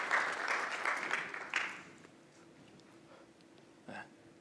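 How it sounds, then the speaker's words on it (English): A small conference audience at a hardware tutorial claps briefly, a short burst of scattered applause that fades within two seconds, followed by quiet room tone and a brief muffled noise. "Round of applause for Matt for flipping switches."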